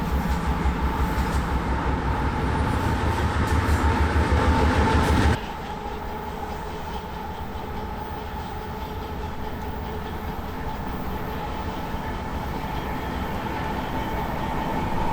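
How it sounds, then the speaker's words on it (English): A pair of locomotives running light, with no cars, rumbles steadily past nearby on the railway at Titlow Beach, Tacoma, a continuous heavy mechanical roar with a sudden drop in loudness partway through, then a sustained lower rumble. "It's a light power move, taking a couple of engines north,"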